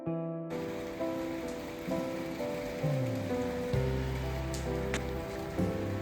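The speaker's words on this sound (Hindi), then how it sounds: "और नए साल में नई नई बारिश भी शुरू हो चुकी है।" Steady rain falls in early spring in North India, a continuous broadband patter that runs alone and fairly close throughout, with tonal music or hum layered underneath.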